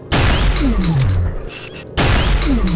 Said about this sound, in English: Basically fires this giant explosion shot